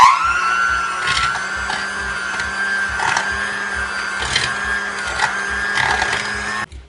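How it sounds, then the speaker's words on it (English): An electric mixer beating butter and sugar, a steady close motor whine with a pulsing low rhythm and periodic scraping swells, loud and continuous until it cuts off near the end. "Now we're going to use the mixer."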